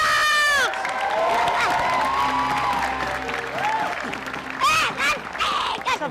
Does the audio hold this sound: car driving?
no